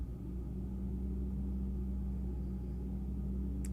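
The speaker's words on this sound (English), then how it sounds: "Sounds like a trash truck" A trash truck passes outside, heard as a faint, steady low engine rumble with a distant droning hum, unchanging across the few seconds and without any talk.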